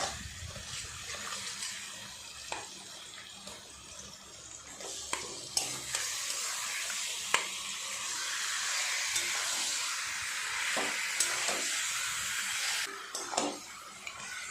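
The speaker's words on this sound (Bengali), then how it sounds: "খুব ভালো করে মাংসটা অনেকক্ষণ সময় নিয়ে সুন্দর করে কষাতে হবে।" Marinated mutton sizzles as it stir-fries with softened onion and tomato in a pan, a moderate hiss broken by sharp spatula scrapes and clinks at irregular intervals, no talking.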